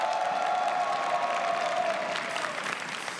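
Audience applause and light cheering at a military unit singing contest as a team is introduced, a steady wash of many hands with a sustained tone under it.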